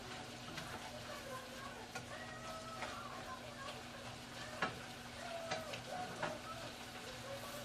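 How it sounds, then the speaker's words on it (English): Stuffing ingredients sizzle quietly in a pan, a soft steady frying hiss broken by occasional scraping stir clicks, faint and close, with a steady low hum beneath. "Let it sizzle."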